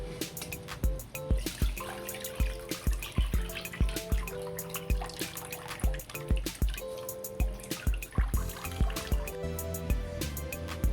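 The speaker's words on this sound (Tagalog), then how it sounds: "Yan, natanggalan ko na ng tubig." Cooked macaroni being drained for a macaroni salad, water pouring and dripping in irregular splashes with repeated sharp drops and a steady running wash underneath, close and fairly quiet, no voices.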